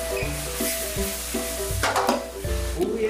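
Onions hit a hot pan and are stir-fried with soy sauce and seasonings, giving a steady close sizzle under repeated scraping strokes of a spatula, with no talking.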